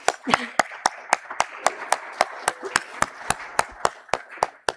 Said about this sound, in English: let's do a round of applause now